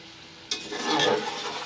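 Tomatoes seasoned with salt and ground black pepper hit a hot pan, a sudden close sizzle that swells briefly as they are stirred, loud and without any talking.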